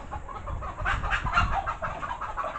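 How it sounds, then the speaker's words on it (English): Chickens cluck close by in a busy, overlapping stream of short throaty calls, with no one talking. "we've got chickens running around here"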